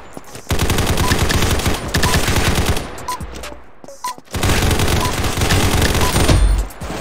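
Automatic gunfire in the Combat Master battle royale game, two long loud rapid bursts separated by a short pause with a few scattered shots, close and dominant.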